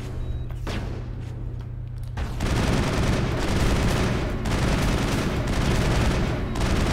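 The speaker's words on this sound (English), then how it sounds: "Shooting in bursts." Rapid bursts of weapon fire from Mass Effect combat, near and loud, with dense continuous firing building after a quieter start and carrying on steadily to the end.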